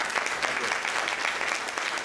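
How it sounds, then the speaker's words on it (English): Dense applause from a crowd at a charity gala dinner, continuous clapping at a steady, fairly loud level throughout. "Please give a big round of applause to Chef."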